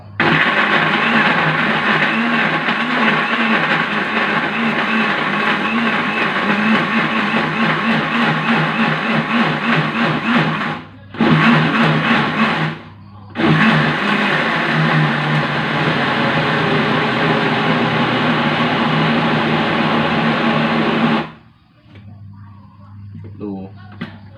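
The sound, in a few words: blender grinding fish for Thai fish cakes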